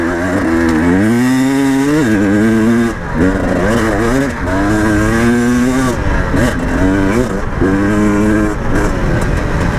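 KTM 300 two-stroke dirt bike revving hard in repeated loud bursts, rear tire spinning, with strong rising and falling engine pitch throughout and no speech.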